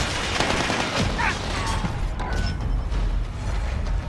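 Rapid gunfire crackles in Call of Duty, dense bursts of shots packed together at a steady loud level, with faint voices underneath.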